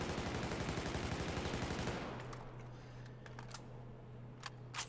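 A rifle in Battlefield 4 empties a full magazine in one rapid continuous stream of loud, evenly spaced shots, then stops, leaving a few scattered clicks and faint after-sounds.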